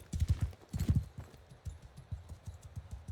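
Horse hooves clip-clop in Mount & Blade II: Bannerlord, a steady trotting rhythm of many close, loud hoofbeats with a brief quieter stretch in the middle.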